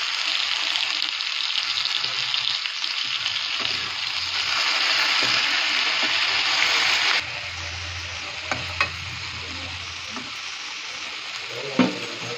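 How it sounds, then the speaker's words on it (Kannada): Ingredients sautéing in a little oil in a pan for chicken biryani masala give a loud, steady sizzle. Stirring scrapes sound through it and the frying continues without speech. "ಇವಾಗ ಸ್ವಲ್ಪ ಎಣ್ಣೆ ಹಾಕಿದೀವಲ್ವಾ, ಚೆನ್ನಾಗಿ ಇದರಲ್ಲೇ ಬಾಡಿಸ್ಕೊಳ್ಳೋಣ"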